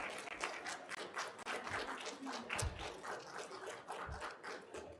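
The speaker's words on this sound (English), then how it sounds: "could you please stand up and give them a round of applause for the support they gave you" Families and friends applaud at a practical nursing pinning ceremony, a steady crowd clapping with dense rapid patter and occasional thumps, sustained and fairly even throughout.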